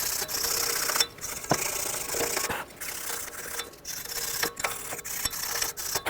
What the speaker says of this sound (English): I'm just going to use my wire brush